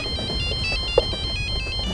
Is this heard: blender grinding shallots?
no